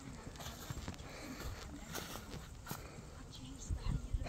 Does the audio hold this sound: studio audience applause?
no